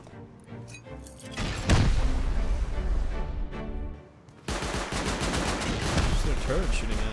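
An auto turret in Rust fires in loud, sustained automatic bursts, a dense rattle of rounds with booming impacts and a short pause midway, while a voice talks under the shooting.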